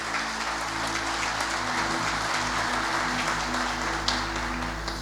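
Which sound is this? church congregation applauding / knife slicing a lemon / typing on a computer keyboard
church congregation applauding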